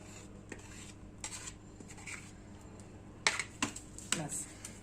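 Eggs and oil for a stovetop chocolate cake are beaten by hand in a bowl, giving scattered scraping, clinking strokes that grow sharper and more frequent in the latter half, close and fairly quiet over a low background hum.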